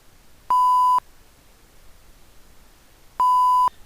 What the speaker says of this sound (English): I can toggle whether or not the scanner makes a sound during the scanning process.